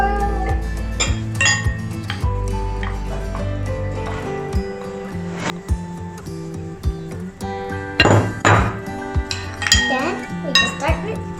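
Salad with pineapple being tossed in a bowl, with repeated clinks and knocks of utensils against the bowl in uneven bursts, loud and close, with a voice talking at times.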